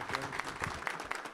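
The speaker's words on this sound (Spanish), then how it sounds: "queremos también que le brindarle un fuerte aplauso al maestro Enrique Segarra" Faint applause from an audience at a photography exhibition opening honouring photographer Enrique Segarra, scattered claps over a low murmur for a brief moment.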